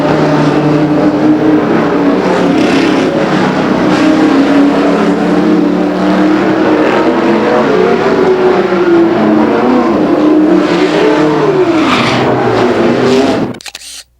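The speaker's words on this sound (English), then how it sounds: "John Brolick in car number 2 knows that Mike Lors isn't quitting and is going as fast as he can" Stock cars race around an oval at Raceway Park in Blue Island, engines roaring loud and continuous with rising and falling revs as the pack passes, ending in an abrupt cut.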